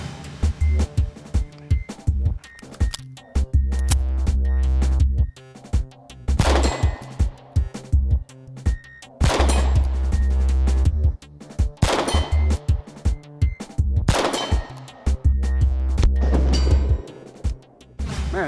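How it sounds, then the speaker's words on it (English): A 9mm pistol fires at steel targets from about 45 to 50 yards, the shots coming as a series of sharp cracks spaced a few seconds apart, with ringing metallic clangs and steady low music underneath. "Man, that is fine shooting from this far back."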